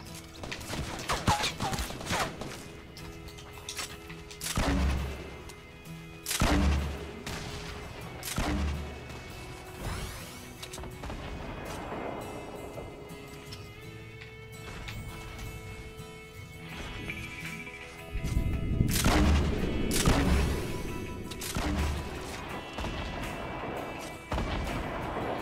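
Gunfire in the Fortnite video game comes as sharp, scattered bursts of shots and heavier booming impacts at moderate distance, with game ambience between and a few voices occasionally speaking.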